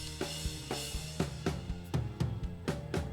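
Raw, unprocessed drum kit from a live track, recorded with dry microphones: repeated kick and snare hits with cymbal wash in a steady rock rhythm, close and fairly loud with no voices.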